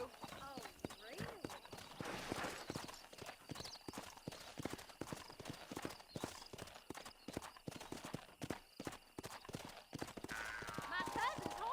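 Video game horse hooves clip-clop in a steady, quick rhythm throughout during a horse race, close and fairly loud, with voices talking over them.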